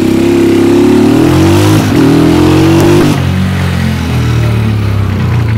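A motorcycle engine revs loudly and close by while towing a skateboard rider, its pitch rising and falling through a few throttle bursts before settling into a steady drone.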